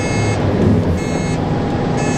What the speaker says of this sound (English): it beeps at me, and then it's a constant audible control, and it's no longer autonomous